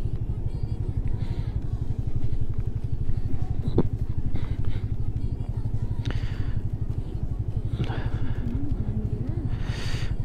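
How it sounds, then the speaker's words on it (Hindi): Heavy weekend traffic of motorcycles and cars on the road to Tungnath, a steady close engine rumble with passing vehicles, occasional horn-like tones and clatter, and people talking throughout. "बाइकें देख लो, इतनी गाड़ियां इतनी बाइकें।"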